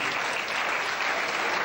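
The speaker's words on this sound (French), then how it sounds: "Applaudissez-vous." Audience applause fills a hall at a French awards ceremony, steady dense clapping from many hands, loud and sustained throughout with no voices over it.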